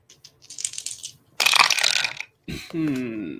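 Dice clatter and tumble during a tabletop role-playing game, with a quick burst of rattling hits near the middle, surrounded by softer handling noises and a brief stretch of voice at the end.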